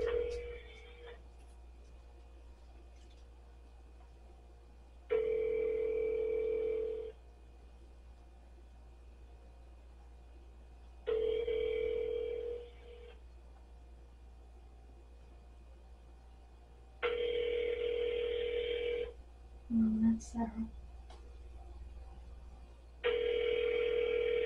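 Unanswered phone call with a ringback tone repeating in regular bursts a few seconds apart, heard through the line, with a brief burst of other noise between rings.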